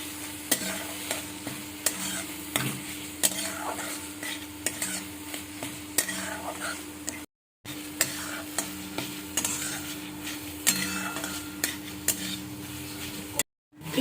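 Paneer frying in butter in a pan as paneer bhurji is made, a soft continuous sizzle with a steady low hum and regular spatula scrapes and taps, briefly cut to silence twice; no speech.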